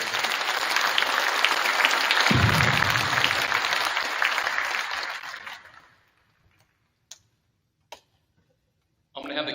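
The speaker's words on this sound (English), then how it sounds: "give yourselves a round of applause for your support." Loud crowd applause at a football championship celebration rises and holds for several seconds, then fades out to near silence with a few isolated claps before a voice resumes.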